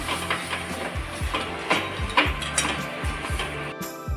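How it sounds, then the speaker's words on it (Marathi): Raw mango pulp mixed with salt and sugar being sautéed and stirred in a pan: a rhythmic series of scraping, knocking strokes against the pan, fairly close, with a soft sizzling bed and no talking. "आता हे आपल्याला छान असं परतून घ्यायचं आहे"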